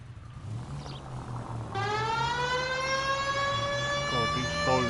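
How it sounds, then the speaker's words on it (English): An emergency vehicle siren starts up partway through and wails steadily and loudly over a low rumbling engine drone. "God, these sirens do my head in"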